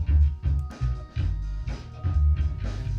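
A music passage compressed with the Airwindows StoneFire Comp plugin, heavy, punchy low-end hits and a fairly even, dense level throughout.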